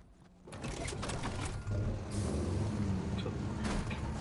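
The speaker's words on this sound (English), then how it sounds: "let's get in the battle bus" The Fortnite battle bus rumbles in a video game, a steady loud engine drone with mechanical hiss that swells after a brief quiet start and holds throughout.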